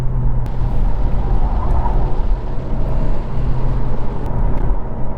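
A 2022 Honda Civic Si turbo engine pulling hard in third gear, a loud, steady drone with road and wind roar close up, holding an even level with a couple of faint clicks.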